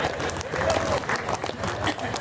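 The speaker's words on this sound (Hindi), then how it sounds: "तालियां बजानी चाहिए भाई साहब" An audience at a Hindi comedy poetry gathering claps in a steady wash, loud and continuous, with a voice speaking faintly beneath it.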